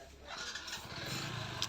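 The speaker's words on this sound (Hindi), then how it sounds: "तो सबसे पहले हम यहाँ से इंजन की साउंड और इसकी स्मोक को हम दिखाने की आपको कोशिश करते हैं।" A Hero Passion Pro XPro 110 motorcycle with a white-smoke problem idles up close, its steady engine drone and low rhythmic exhaust thump running throughout the short stretch.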